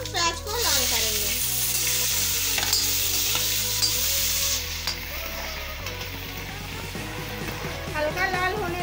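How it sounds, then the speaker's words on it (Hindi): Onions fry in a pan with bay leaf, coriander, cumin and cloves for Punjabi chhole, giving a loud, steady sizzle with occasional stirring, while tonal background sound runs underneath throughout. "सारे मसाले को हम यहाँ पर डाल रहे हैं। अब हम प्याज को लाल करेंगे।"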